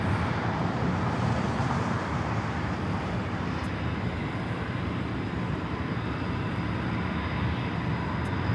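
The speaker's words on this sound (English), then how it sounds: "Delta Airlines 1875 taking off to Los Cabos on the 737-900ER" A Delta Boeing 737-900ER taking off from LAX while a 757 taxis nearby, heard as a broad, steady jet roar that holds loud and constant from start to finish.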